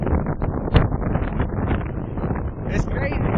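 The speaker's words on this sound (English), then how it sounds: "Very, very, very windy." Strong wind gusts on a stormy beach with 60-plus mph winds, a loud, continuous roar and buffeting against the microphone that surges and dips without pause.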